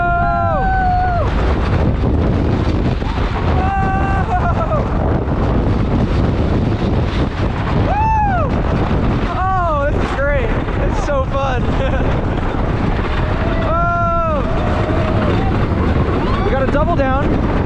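Riding the Wild One wooden roller coaster at Six Flags America in Bowie, Maryland: constant loud wind rush and rattling track roar throughout, with excited shouts and whoops from riders over it.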